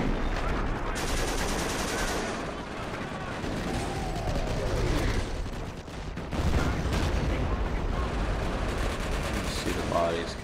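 Artillery shells from 105 guns crash down on massed infantry in the World War II strategy game Company of Heroes Blitzkrieg, a dense, continuous roll of explosions and gunfire under a steady battle din.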